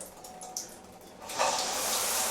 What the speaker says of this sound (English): if you change to the rain shower, which you'll have to turn upwards the other way